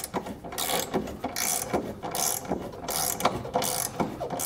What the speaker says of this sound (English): we're going to use a 19 millimeter socket, draw the hitch up a little bit so that we can get our hardware on our bolts